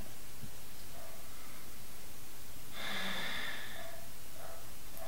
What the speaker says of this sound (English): Deep inhalations, deep exhalations, activating the abdominal region